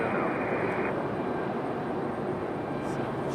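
JetBlue and Lufthansa airliners at Raleigh-Durham International Airport give off a steady broadband roar of jet engines, fairly distant and even, with a faint high whine fading out early on.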